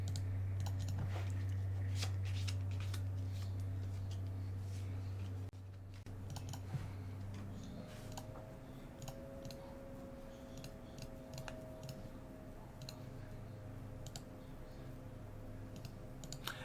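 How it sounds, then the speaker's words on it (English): Magic: The Gathering cards are shuffled by hand, producing soft, irregular clicks and riffling bursts over a steady low hum of a quiet room. "Yeah, I'm shuffling."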